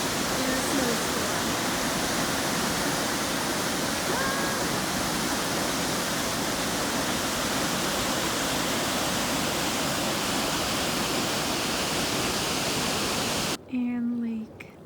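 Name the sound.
small stream of lake water flowing under rocks in snow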